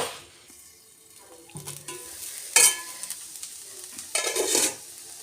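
Potato fries cook under a lid in a pan, giving a soft steady sizzle with louder bursts of frying crackle and a few clinks, alone without talk.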